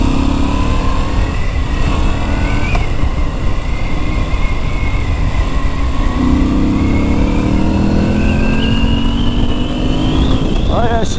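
Moto Guzzi V7 Stone motorcycle engine running steadily and rising in pitch as it accelerates, loud and continuous throughout, recorded close while riding.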